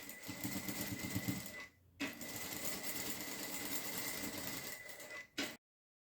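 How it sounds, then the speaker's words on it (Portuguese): Sewing machine stitching a half-centimetre seam around the edge of a small fabric bag, a close, rapid mechanical whirring that runs steadily, pauses briefly, resumes, and then stops abruptly. "Fiz uma costurinha no tamanho de meio centímetro em toda a borda"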